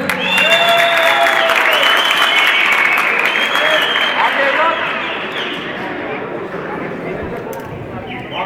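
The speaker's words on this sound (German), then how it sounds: "Und natürlich auch Applaus für seine Gegner in der roten Ecke." Loud, sustained audience applause fills a Thai boxing event hall, mixed with crowd noise and voices over it, then easing slightly toward the end.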